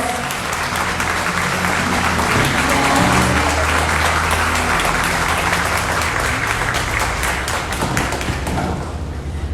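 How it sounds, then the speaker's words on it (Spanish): A congregation applauds at a church retreat, steady dense clapping filling the room at close range, with a low hum and some voices underneath, tapering off at the end. "Un aplauso para nuestro Dios."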